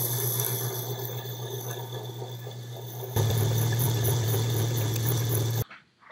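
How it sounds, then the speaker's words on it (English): A GRS Power Hone grinds a graver on a 260 wheel, a steady close motor drone with a gritty whine that grows louder partway through and then cuts out abruptly. "I'm going to start with this 260 wheel to grind it down."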